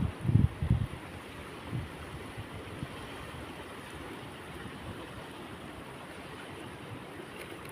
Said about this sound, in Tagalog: Yan, lakas ng agos.